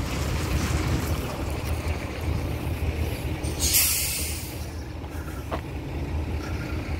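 Mercedes truck hauling heavy machinery on the BR-304 highway passes with a broad, rumbling roar and rush of wind, a brief swell of hiss as it goes by, with steady road noise throughout.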